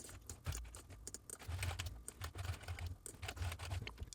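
Steady, quiet tapping of keys on a computer keyboard as shortcuts are pressed, with clustered clicks in an irregular rhythm over low background hum.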